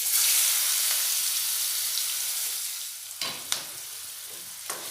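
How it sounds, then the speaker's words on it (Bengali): Chopped onions and red chillies fry in a pan with a bright, steady sizzle that fades slightly over time, broken by a few sharp scrapes and knocks of a spoon stirring. "পেঁয়াজগুলো 1 মিনিট একটু নেড়ে নেব।"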